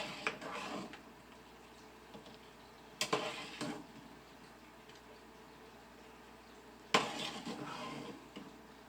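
A slotted spoon lifts batch-cooked potatoes out of water in a bowl, giving a few quiet clinks and wet scoops against a faint background, with two sharper knocks standing out.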